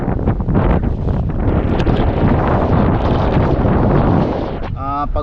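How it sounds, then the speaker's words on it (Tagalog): Heavy wind buffets the microphone in a constant low rumble at a milkfish and mullet fishing spot, with a voice briefly audible at the end. "Medyo mahangin po."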